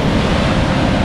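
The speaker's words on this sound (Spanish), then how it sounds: "Bastante agua lo que está ingresando" Seawater surges into a sea cave on the Malibu, California coast, a steady, loud, broadband roar of churning surf with no pauses and no voices.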